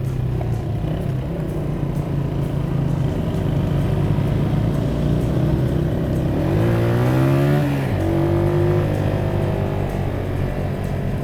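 A Honda CG 125 motorcycle with an OHV pushrod engine revs under load on the road, its steady thrum climbing in pitch as it accelerates, with wind noise over the close engine sound.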